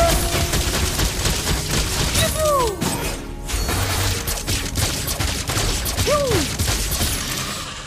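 Claude fires in Mobile Legends: loud, dense bursts of rapid gunshots with sharp crackling impacts, broken by two swooping whistle-like effects and a brief lull.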